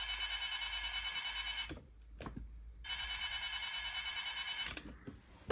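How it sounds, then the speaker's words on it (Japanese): Electronic internal effect from a CSM Birth Driver Kamen Rider Birth toy, a steady pulsing high trill looping for a couple of seconds, stopping briefly with a click, then resuming, close and fairly quiet. "戦ってる時のバース内部の効果音がこういう感じで流れます"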